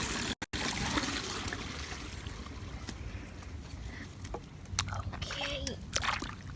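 Floodwater flows and trickles through a yard where a catch basin is plugged with debris, a steady watery wash with occasional splashes and sloshes in the foreground.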